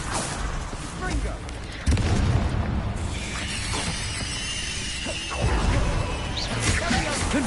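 Confringo spell explosions in Hogwarts Legacy, repeated booming blasts and shattering crashes amid chaotic combat noise, with a voice calling out spells over it.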